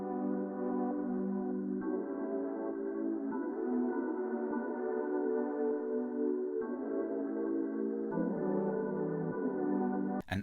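Layered synth chord sample using the Lo-Fi Midnight Crystal Cascades patch in an R&B beat, sustained mellow chords that shift every few seconds, steady and upfront with no voices.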